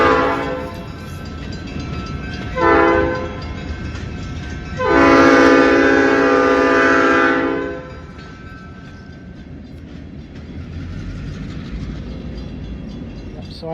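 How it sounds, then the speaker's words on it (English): A real train passes close by, sounding a short horn blast and then a long sustained horn over a steady rumble of wheels on rails, the rumble lingering and fading after the horn stops. "Oh, that sounds like a train."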